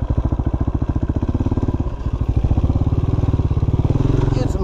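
Dirt bike engine running on a single-track trail, a loud, close, rapid rhythmic putter with steady revs that rise a little partway through, while a voice talks over it.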